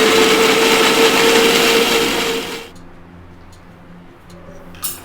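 A mixer grinder blends cut watermelon pieces for juice, a loud steady whirring motor that runs for about two and a half seconds and then stops, leaving a quiet room.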